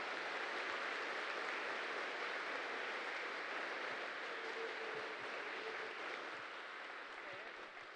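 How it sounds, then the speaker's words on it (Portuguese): A congregation in a cathedral during an evening Mass applauds the mothers, a broad, sustained roar of many clapping hands that holds steady and then eases slightly toward the end, with no speech on top. "uma salva de palmas a todas as mães"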